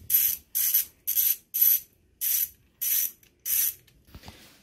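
Seven evenly spaced bursts of ratcheting from a hand ratchet tightening three valve cover bolts on a motorcycle during a big bore kit install, close and crisp, with short pauses between strokes.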